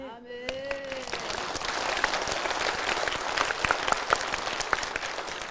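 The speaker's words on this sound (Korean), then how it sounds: "박수" Congregation applause during a Korean church revival sermon, dense clapping from a large crowd that starts just after a brief spoken word and carries on evenly throughout.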